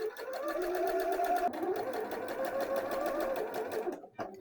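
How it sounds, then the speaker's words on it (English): A sewing machine runs steadily, back-stitching to secure the end of a double-pointed dart in fabric, a continuous close whirring that stops abruptly near the end, followed by a brief click. "Do a little back stitch just to secure that, and then I can work the other side in the same way."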